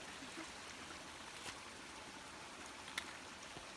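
Creek water flowing at a trail crossing on a hiking trail: a steady, faint, even rush of water with a few soft splashes, and no voices.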